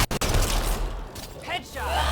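A gunshot headshot in the sci-fi shooter Mass Effect Andromeda, with a couple of sharp close cracks at the very start followed by a dense roar of game combat noise, as someone talks over it.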